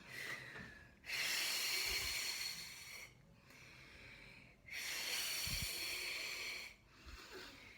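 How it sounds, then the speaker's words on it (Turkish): Deep breaths come one after another, long airy inhales and exhales alternating at an unhurried pace, close and fairly quiet, with a couple of soft low thumps beneath, ahead of blowing bubble gum. "Derin nefes alın."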